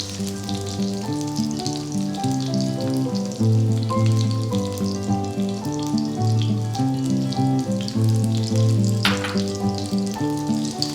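Cabbage frying in a sausage casserole pan gives a steady bright sizzle. Music with a repeating tonal pattern plays underneath throughout, and there is a brief clatter near the end.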